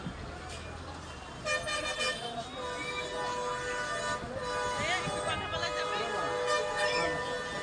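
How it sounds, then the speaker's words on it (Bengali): Traffic jam near Chandina market on the Dhaka–Chittagong highway, with several vehicle horns honking repeatedly, some long and blaring, over a steady roar of engines and road noise. "দেখেন কীভাবে হর্ন মারছে, আর রাস্তা কীভাবে জ্যাম হয়ে আছে"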